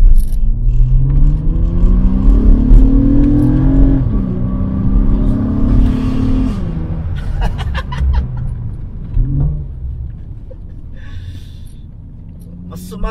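A 2008-2012 Honda Accord V6 with a modified exhaust revs up and settles back, its engine note climbing and falling several times, loud and close, then dropping to a quieter idle-like rumble.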